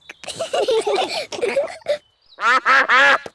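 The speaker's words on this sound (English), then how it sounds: "Oh, it's the ducks." Cartoon ducks arriving at a picnic give a burst of loud, close, bright quacks, several in quick succession, following a spoken line from a character.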